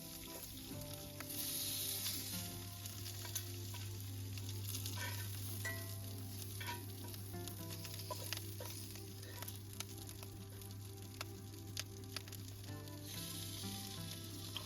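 Scots sausage sizzles and spits steadily in a pan over a Kelly Kettle stove outdoors in Scotland, a close, continuous frying hiss with small crackles and no talking.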